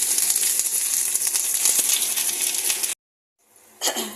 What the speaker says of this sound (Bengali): তো এটা ভাজা ভাজা হচ্ছে